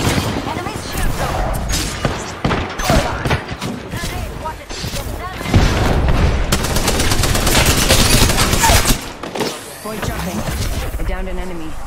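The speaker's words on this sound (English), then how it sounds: "I'm taking shots. Enemies shoot them!" Rapid gunfire from an Apex Legends firefight, with dense automatic bursts and single shots rattling almost continuously and loudly while voices shout callouts over the shooting.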